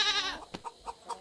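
A goat in the video game Meena 2 gives a short, clear bleat, followed by a few faint, scattered game sounds.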